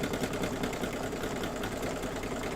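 An embroidery sewing machine stitching a finishing stitch on an in-the-hoop quilt block with a dog design gives off a steady, continuous mechanical whir and rapid needle chatter, close and even throughout with no talking.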